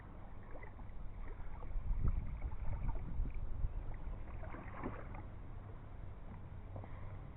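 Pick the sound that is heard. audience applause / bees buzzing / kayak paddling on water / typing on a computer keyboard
kayak paddling on water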